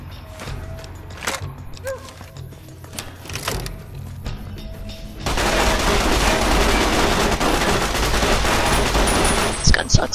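Gunfire in the game Fallout: New Vegas begins with scattered sharp single shots and clicks, then becomes a loud, sustained burst of rapid fire lasting several seconds, with a few more cracks at the end.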